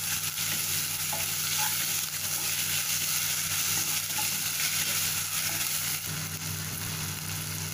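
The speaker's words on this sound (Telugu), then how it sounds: "అల్లం వెల్లుల్లి పేస్ట్ బాగా ఫ్రై అవ్వాలండి." Ginger garlic paste fries in a pan for a mutton biryani, giving a continuous loud, close sizzle with faint stirring scrapes and no talking.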